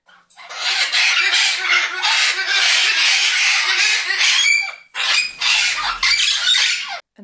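A small flock of pet parrots squawks loudly and almost without pause, harsh overlapping calls filling the space with a short break before the noisy chatter resumes.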